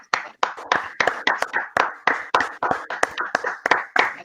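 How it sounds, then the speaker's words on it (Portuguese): A small group claps together in a round of applause to salute the Sport Clube Internacional football club, with sharp hand-claps that land in a quick, somewhat irregular rhythm, close and loud, with no talking. "A gente queria dar uma salva de palmas para o Sport Clube Internacional"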